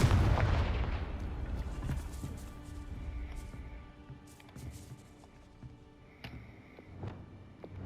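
A Confringo blasting spell explodes in Hogwarts Legacy near a gatehouse, a heavy booming burst up front that rolls off into scattered smaller pops and crackles over several seconds.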